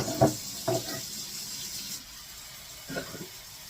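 Water pours steadily from a tap into a crock pot, a soft hissing stream with a few brief clunks and splashes nearby.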